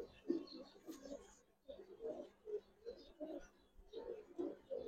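Gribaz and coloured pigeons cooing softly in repeated low throaty bursts, close by and faint, with short pauses between phrases.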